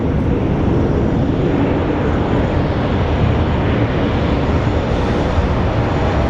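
A Delta airliner bound for Salt Lake City passes at Phoenix Sky Harbor Airport, a loud, broad, unbroken jet roar filling the whole stretch with no voices.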